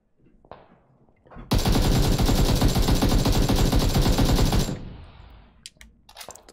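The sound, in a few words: AKM rifle gunfire with compensator, shot crouching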